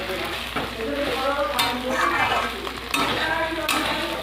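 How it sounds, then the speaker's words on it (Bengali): Potatoes and soybean chunks are stir-fried in spiced oil with a loud, continuous sizzle, broken by several sharp scrapes and clinks of a utensil against the pan, and no voices. "এবার আলু আর সয়াবিনটা দিয়ে ভালো করে কষিয়ে নেব।"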